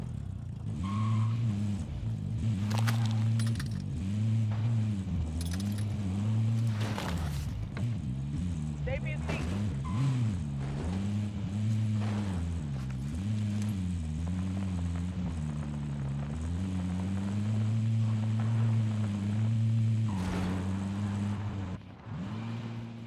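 Car driven in the Warzone video game, a continuous loud engine hum that rises and falls with throttle, with occasional bursts and clicks on top and voices talking over it.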